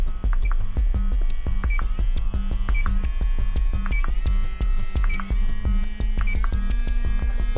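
A brushless motor running at full throttle on a BMC-01 motor checker, loud, with a steady electric whine and hum under a regular rhythm of short beeps and clicks.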